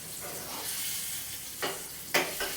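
Butter heating in a pan before garlic is fried, with a low, steady sizzle and a couple of brief, louder crackling bursts near the end, no voices.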